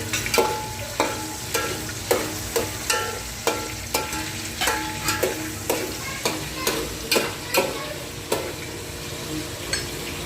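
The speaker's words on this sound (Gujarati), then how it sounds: "પનીર તળાઈ જાય." Paneer frying in a pan with eggplant and green chilies while being stirred, a steady sizzle broken by regular scraping strokes about every half second, close and loud.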